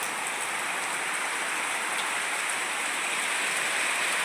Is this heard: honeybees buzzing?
no